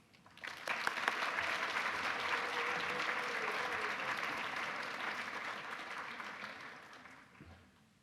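An audience bursts into sustained, even applause welcoming poet Kazim Ali, a dense wash of clapping that starts abruptly, holds steady for several seconds, then tapers away.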